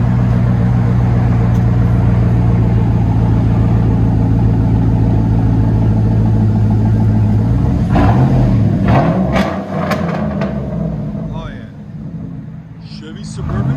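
A straight-piped 2007 Chevy Suburban with dual exhaust rumbles loud and close at a deep steady idle, then blips and revs up and settles back, with someone talking over it.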